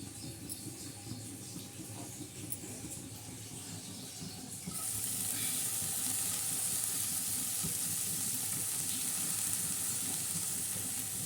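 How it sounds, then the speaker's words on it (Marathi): Mixed dill and spinach greens go into a hot pan and start cooking, a quiet low hiss jumping to a loud, steady sizzle with bright steam as the wet leaves hit the oil. "धुवून घेतली स्वच्छ आता आपण शिजायला टाकत आहोत"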